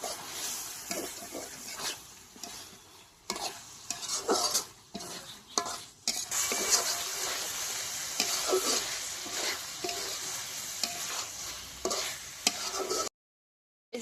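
Mutton tehari being stirred in a pan after vinegar goes in: steady scraping and stirring strokes over a soft sizzle, fairly close, with brief quieter gaps and no talking.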